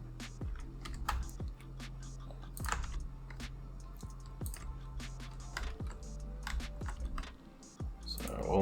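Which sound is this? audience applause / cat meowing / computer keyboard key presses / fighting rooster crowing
computer keyboard key presses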